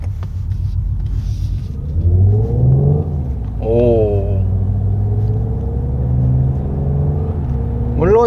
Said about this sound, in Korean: 물론 실제 엔진음과는 다소 차이가 있습니다만 익숙해지면 굉장히 엔진음스럽고요